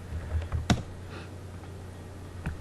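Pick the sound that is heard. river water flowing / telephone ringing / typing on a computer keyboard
typing on a computer keyboard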